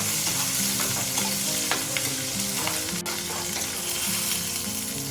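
Onions, then garlic, lightly frying in a pan for a home-cooked Indian lunch, with a steady close sizzle and occasional scraping from stirring throughout, and no talking.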